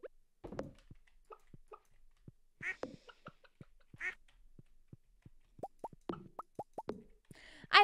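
Ducks quack in a farm coop in Stardew Valley, scattered short calls and soft plopping game effects spread across a quiet background, with a quick rising run of notes near the end.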